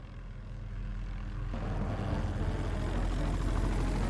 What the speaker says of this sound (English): It's a helicopter. It's the sound of a helicopter.